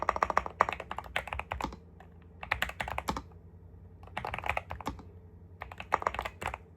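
Bursts of computer keyboard typing, close and crisp, come in several quick runs of clicking keys separated by short pauses, with no voice over them.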